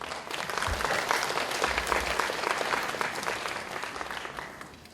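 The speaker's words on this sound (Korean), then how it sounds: "큰 박수 부탁드립니다" Sustained audience applause at a high school admissions information session, a dense, even patter of many hands clapping in a hall for several seconds, with a few low thumps and no talk over it.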